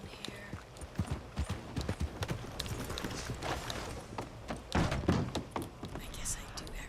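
Horse hooves clip-clopping in the video game Red Dead Online, a soft uneven series of thuds heard under a speaking voice.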